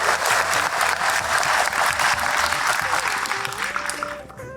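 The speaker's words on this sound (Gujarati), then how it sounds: "આપણે બધા એકવાર ખૂબ તાળીઓના ગડગડાટથી વિવેકભાઈની મહેનત વધારીએ" An audience at the launch of the Tapobhumi book applauds to honour the author's effort: thick, loud clapping from a large gathering, sustained evenly before tapering off at the end.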